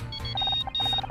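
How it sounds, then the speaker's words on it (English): Mobile phone ringing inside the Murder by Numbers video game, a series of short repeated electronic beeps in quick bursts over a steady low game background hum, close and moderately loud. "I think that's my phone."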